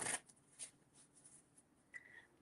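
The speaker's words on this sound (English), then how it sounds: "Give these a shuffle." Playing cards are shuffled quietly up close, giving a brief riffling burst at the start followed by a few soft, scattered shuffling taps.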